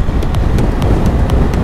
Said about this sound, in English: It's getting windy now, I can feel it.